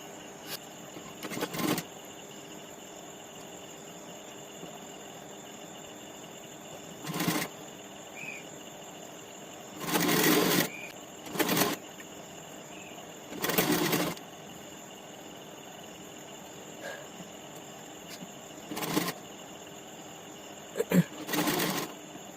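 Sewing machine stitching the collar of a gents' half Panjabi, firing in several short separate bursts over a steady background hum.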